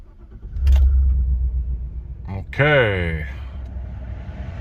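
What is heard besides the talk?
Chevrolet Silverado pickup truck engine starting and idling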